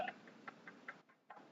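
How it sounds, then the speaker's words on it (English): Light, evenly spaced taps on a glass salsa jar, a soft repeating ticking of about five or six clicks with a brief gap, heard close and fairly quiet. "Oh, you're tapping the salsa?"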